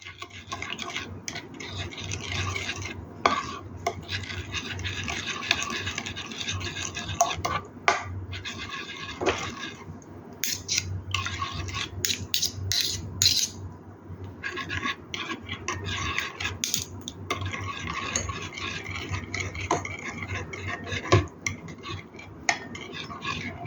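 Soybean paste being stirred and dissolved in a bowl, a steady run of scraping and clinking from a utensil against the bowl, continuous and close, with the odd sharper knock.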